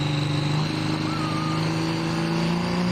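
A loud, steady pulling tractor engine drone with a rising single-turbocharger whine as boost builds, running continuously and close by with no pauses, at a truck and tractor pull.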